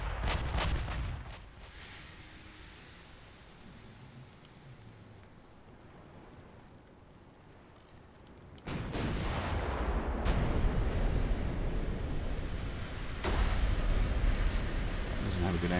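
Naval gunfire from warship batteries in the naval battle game Ultimate Admiral Dreadnoughts, a quiet rumbling stretch followed by loud booming salvos and sustained heavy rumble, with someone talking intermittently over it.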